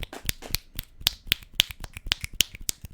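Rapid finger snapping from several people in an audience after a mention of the Milwaukee Brewers, many sharp, close clicks overlapping in an uneven, busy rhythm with no talk over it.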